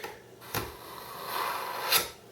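A kitchen knife is pulled back through the fine slot of a SimpleTaste stainless steel sharpener, giving short scraping rasps, two distinct strokes with softer rubbing between, close and clear.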